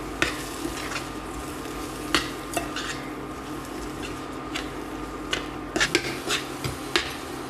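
Spice powders including garam masala stirred into a masala curry in a pan, with a steady low frying hiss and scattered scraping and clinking spoon-against-pan hits.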